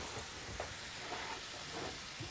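Sliced potatoes fry in a pan with onion and carrot for a hunting-dish ragout, giving a steady close sizzle with faint stirring scrapes throughout.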